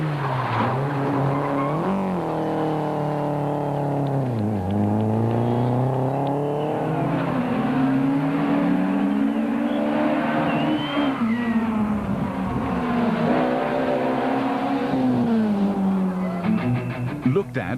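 Rally cars racing past spectators on a Sasol Rally 2005 forest stage, engines revving hard and sweeping up and down in pitch with tire squeal, loud and close for the whole stretch while a narrator talks over it.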